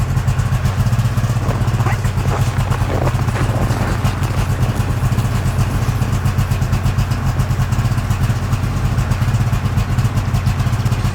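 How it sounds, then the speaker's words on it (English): A snowmobile engine runs steadily at idle or low revs, a loud, continuous mechanical drone with rattly clatter, close by and constant throughout, out on the ice during winter perch fishing. "get the snowmobile and the auger"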